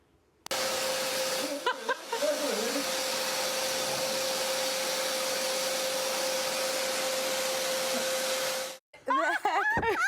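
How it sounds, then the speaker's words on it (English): A small household vacuum cleaner used to style hair runs with a loud, steady whine and a constant tonal hum for several seconds, then cuts off abruptly. Brief voices and laughter sound before and after it. "He had a cute little vacuum, right?"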